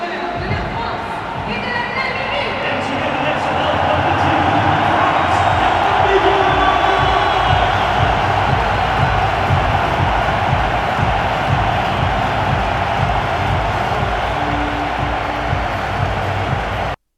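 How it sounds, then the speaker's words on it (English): A huge French rugby crowd roars before the home team takes the field, a dense, loud, continuous wall of noise with cheering and whoops swelling early and holding steady until an abrupt cutoff. "just have a listen to the crowd, the noise this generates. This is just before the French team come out onto the park."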